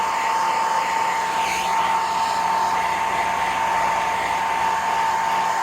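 A hair dryer blows steadily on a pet bird after her shower, a continuous close, loud whirring hiss with a constant tone and no talking over it.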